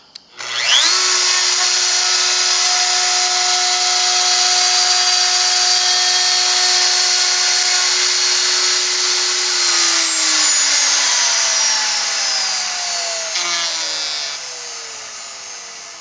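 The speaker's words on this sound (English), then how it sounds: "we're going to turn the router on, and we're going to drag our router from left to right along the top horizontal line" An electric router spins up sharply and holds a loud, steady high whine while cutting a recess in a wooden side piece for telephone jacks, then slowly winds down after it is switched off.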